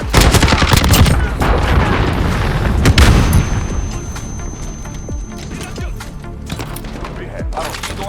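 Grenade explosion in the Call of Duty: Modern Warfare video game, a loud boom within dense, rapid gunfire and repeated sharp blasts, with in-game voice callouts over the shooting.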